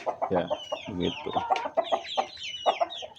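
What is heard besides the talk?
chickens in a coop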